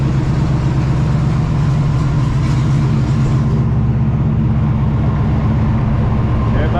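A car engine idles loud and close, a dense steady rumble that carries through the whole stretch with no change in pace.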